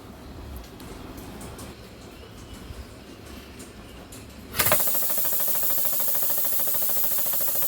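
Press-fit wrist pin being driven out of a piston and connecting rod set on blocks: quiet room tone, then a sudden loud mechanical onset of continuous pressing and grinding that stays steady to the end.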